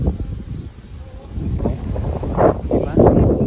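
Strong night wind pummels the microphone in loud, rising gusts, thudding rumbles building toward the end of the short stretch.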